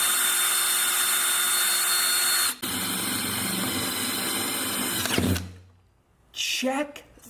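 Power drill driving a metal-tipped drywall anchor into wood paneling, a loud steady whine for about five seconds with a brief catch, then stopping, followed by a short burst of voice.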